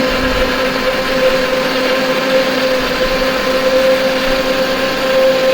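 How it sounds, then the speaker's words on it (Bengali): A kitchen blender whirs steadily as it blends carrots with milk for carrot laddu, a constant loud motor hum with a high steady whine and no pauses. "দুধ দিয়ে আমি গ্লেটার করে নেব ব্লেন্ডার করব এটা আমি ব্লেন্ডার করব"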